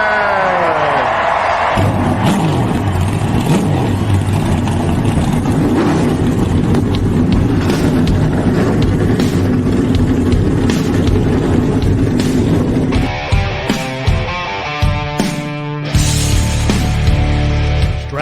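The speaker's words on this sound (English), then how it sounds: "Driver, start your engine!" Loud, sustained roar of NASCAR stock-car engines starting and revving, dense and continuous throughout, with a shift partway where the engine tone changes into steadier harmonic droning.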